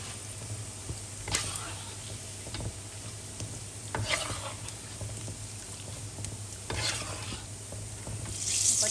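Squid tentacles deep-frying in oil give a continuous crackling sizzle, with repeated stirring clatters and scrapes coming every second or two.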